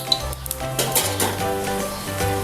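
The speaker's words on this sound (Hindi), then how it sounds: "ऐसे थोड़ा सा बेसन डाल के देखेंगे ये तेल गर्म हो गया" A pinch of gram flour batter dropped into hot frying oil crackles and sizzles steadily up close, with a faint clink of a utensil near the start.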